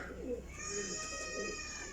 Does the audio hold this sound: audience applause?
no